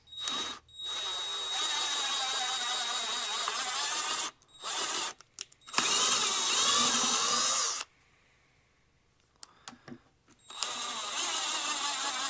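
A power tool whirs loudly in several bursts of a few seconds each, with short pauses and a longer quiet gap between runs, as 1/4-20 threads are tapped into eight holes.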